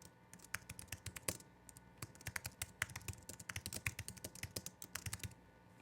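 A map name being typed on a computer keyboard, with a rapid, uneven run of close key clicks in short bursts and brief pauses, with no talking.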